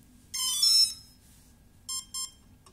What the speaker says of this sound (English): now it should play a musical tone